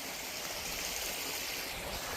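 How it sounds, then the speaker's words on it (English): A creek along a hiking trail runs with a steady, even rush of flowing water, close and continuous, with no voices over it. "So there's one creek coming from there"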